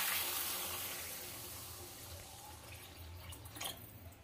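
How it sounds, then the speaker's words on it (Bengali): Water pours from above into a pan of rui fish curry with potatoes and dried lentil bori, making a soft continuous splash that tapers off over a few seconds, with no talking. "পরিমাণ মতো জল দিয়ে দেব।"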